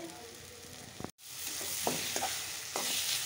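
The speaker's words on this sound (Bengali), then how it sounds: "মশলা দিয়ে দিয়েছি, মশলাটা ভাজা ভাজা হচ্ছে" Spices frying in oil in a pan for a fish curry, a steady close sizzle with a few stirring scrapes and one brief cut in the sound.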